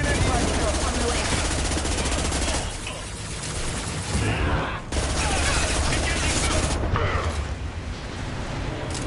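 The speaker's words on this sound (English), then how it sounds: "Firing an impact shot on the way." Impact shot gunfire in the Mass Effect 2 video game: a dense, loud, sustained barrage of overlapping shots and mechanical clatter, easing briefly a few times before surging back.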